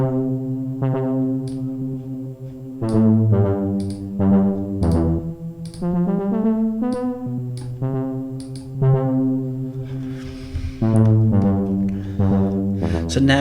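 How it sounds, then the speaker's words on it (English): Synthesized tones processed with an echo effect in Reason software, a sequence of sustained pitched notes whose repeats trail and overlap, steady and loud with no talking. "All we're listening for is the echo."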